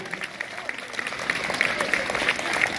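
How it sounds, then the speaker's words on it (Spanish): Applause at a school anniversary celebration, a crowd clapping with moderate, building intensity and a few sharper claps standing out, with faint voices underneath. "fuerte los aplausos"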